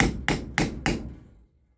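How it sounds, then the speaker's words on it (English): A hammer taps a homemade seal driver to seat a new tailshaft seal: four sharp metallic blows in a steady rhythm, close and loud, each ringing briefly before fading. "just take a hammer, tap it a little bit."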